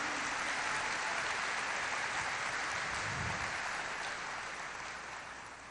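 Congregation applauding at a Brazilian evangelical church service, a broad, steady wash of clapping from many hands that holds evenly, then slowly fades toward the end.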